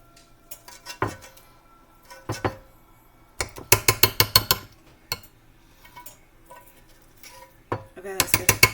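A metal spoon scrapes and knocks against a pot while stirring thick, cooled mac and cheese, with scattered clinks and short bursts of rapid clatter. Occasional faint voices sit underneath.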